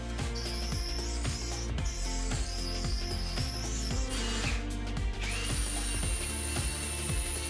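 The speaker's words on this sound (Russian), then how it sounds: "Керамогранит сверлится тяжело." A worn diamond core bit drills a hole through a porcelain stoneware tile wall for a sink, giving a steady, rhythmic grinding chatter with repeated pulses, fairly quiet and with no talking.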